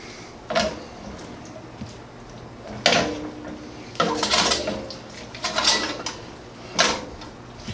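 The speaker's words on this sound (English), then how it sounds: "Give that a stir." A spoon scrapes and clanks around a pan of stuffed bell pepper filling with tomatoes in a few separate bursts, some louder metallic knocks between quieter stretches.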